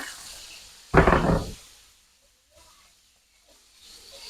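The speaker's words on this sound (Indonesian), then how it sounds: "tak tumis semua bumbunya ya" Spice paste for water spinach hits a hot pan with a sudden loud hiss and sizzle that lasts about half a second, then fades to a faint crackle with soft stirring sounds afterward.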